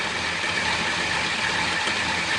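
A large-engined 1949 Dodge car idles steadily, a continuous even rumble heard up close with no voices over it.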